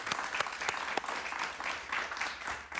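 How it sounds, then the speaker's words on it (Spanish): A studio audience applauds a former Cuban political prisoner, a soft, steady patter of many hands with a few sharper individual claps standing out near the start, moderately quiet and continuous for almost three seconds. "Un aplauso para él, por favor."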